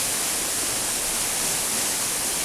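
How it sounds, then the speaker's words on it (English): The Eas Mor waterfall in heavy flow after rain, brown with sediment, roaring as a dense, constant, loud rush of falling water with no break. "So this is the waterfall, actually as good as it gets."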